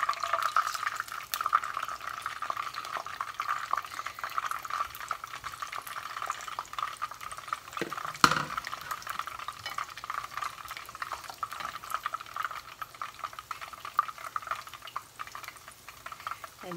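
Beef strips browning in a frying pan give a soft continuous sizzle with faint bubbling, and one brief clunk of a utensil partway through. No one speaks.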